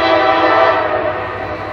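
Loud rumble of an NS 6300 locomotive hauling a manifest freight train past at the Fostoria Iron Triangle rail junction, close and steady throughout with a tonal horn-like drone, no voices.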